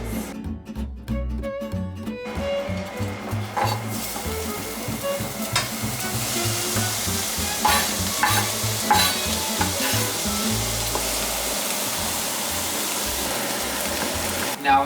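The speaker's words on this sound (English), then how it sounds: "We gotta saute our onions" Onions sautéing in a pan for homemade pizza sauce, a steady close hiss and crackle of frying with intermittent stirring scrapes and clatter, a few low knocks early on.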